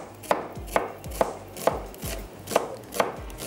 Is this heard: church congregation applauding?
no